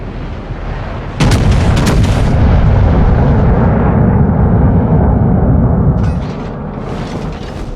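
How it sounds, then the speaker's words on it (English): Loud, sustained naval artillery salvos in World of Warships during a random battle aboard the Soviet Tier 5 battleship Pyotr Velikiy, with heavy booming blasts and a rumbling roar that fades near the end. "Concentrate fire on the enemy warship."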